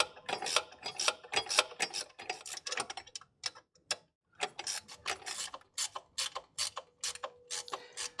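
A ratchet tightens a bracket bolt on a Nissan X-Trail QR25 engine during head gasket work, giving rapid close clicking bursts in uneven strokes with brief pauses, fairly quiet.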